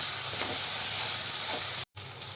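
Chili powder masala sizzles steadily in a pan for an eggplant curry while it is stirred: a continuous bright frying hiss with faint stirring strokes, cut by a brief silence near the end.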